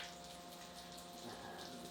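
Anchovy brine mixed with cream is poured out in a steady, quiet, continuous liquid stream with a faint hum underneath, close and low in level.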